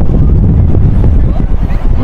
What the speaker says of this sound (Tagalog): Kasi sobrang lakas ng hangin.